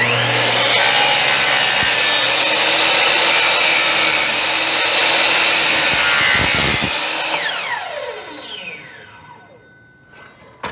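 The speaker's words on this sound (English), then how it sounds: "So you would cut back 3/8 of an inch from that corner." A hand saw cuts through a wooden baseboard being trimmed for carpet, with steady rasping strokes for about seven seconds, then a few slower finishing strokes as the cut ends, close and loud.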